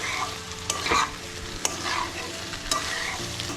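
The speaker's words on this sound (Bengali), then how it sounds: "এবার চিকেন কিমাটা মিশিয়ে নেব এঁচড়ের সাথে" Chicken mince is stirred into jackfruit and fried potatoes in a hot pan: a continuous sizzle with repeated scraping strokes of the spoon, close and fairly loud, and no voices.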